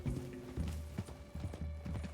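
Horse hooves clip-clopping in Red Dead Redemption 2, a steady run of close, rhythmic hoofbeats through a wooded clearing, with a faint mechanical rattle underneath and no talk.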